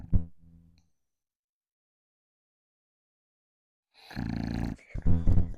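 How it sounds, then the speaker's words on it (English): A short, low rumbling snore from a puppy at the start, followed by a few seconds of silence, then close voices talking loudly. "Nice little puppy snore for you guys there."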